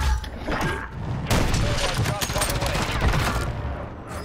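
Sustained rapid gunfire in a Warzone 3 match as a sniper fires on a vehicle, dense bursts of shots and impacts running throughout with a loud, busy mix and a voice talking over it.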